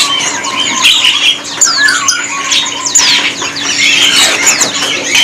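Small pleci white-eye birds at a bird market kiosk chirp and call busily, with overlapping sharp, high twittering from several birds close by and no talking.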